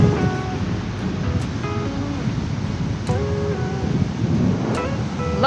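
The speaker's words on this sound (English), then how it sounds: "Found another pretty beach." Waves break on Langs Beach near Whangārei on a grey day, a steady close wash of surf mixed with wind noise, with faint background tones over it.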